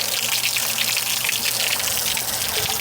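Pressurized water jets steadily from the tell-tale outlet of an outboard motor being flushed with a garden hose, a continuous hissing spray with a low motor hum beneath, close and even throughout.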